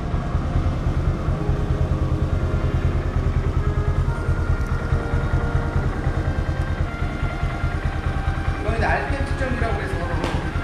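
A Honda MSX125 motorcycle engine idles steadily with a fast, even pulsing rumble during a vehicle inspection, while people talk nearby over it.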